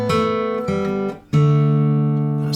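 A short fingerpicked guitar phrase from the intro of the Eagles' "Desperado": a few picked notes ringing out, a brief pause, then a sustained chord that rings clearly to the end, with no voices.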